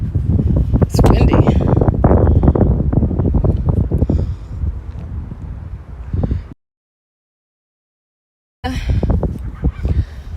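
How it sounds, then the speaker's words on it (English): Strong gusts of wind roar and buffet the microphone outdoors in central Florida, with people talking in bursts, then a brief cut to silence before the blustering resumes. "Yeah, it's a lot of wind."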